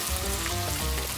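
Crab stick and tuna cake frying in an oiled pan, a loud, steady close sizzle and crackle throughout with no talking.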